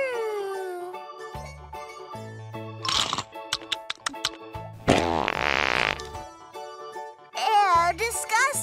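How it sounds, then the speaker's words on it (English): A fart sounds during play with baby dolls, a few short blurts set among squeaky toy-like tones and bursts of noise, with a voice nearby. "Disgusting! You farted"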